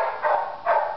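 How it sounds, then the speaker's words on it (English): A dog gives two short, yippy barks in quick succession, close and fairly loud. "And that's Lexi, barking like a baby"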